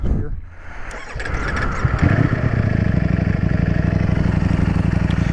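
A 2022 Ducati Streetfighter V4 with stock exhaust comes to life nearby and settles into a loud, steady, slightly lumpy idle that holds to the end.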